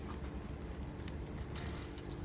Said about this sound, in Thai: ก็คือใช้ใช้น้ำเนี่ยล้างนะครับ